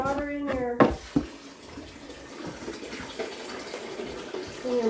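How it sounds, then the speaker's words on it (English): Hot water gushes steadily from a tap into a basin, close by; a voice talks briefly at the start and again at the end. "Let's get some hot water in here."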